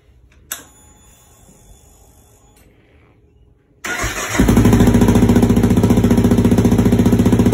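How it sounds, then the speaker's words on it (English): A Kawasaki KLR 650 gen 3 motorcycle with a Delkevic 350mm oval exhaust, baffle fitted, starts up after a few seconds of quiet and a brief click. The starter whirs, then the engine catches and settles into a loud, steady, close idle thump. "KLR 650, 350mm delkevic oval pipe with the baffle in."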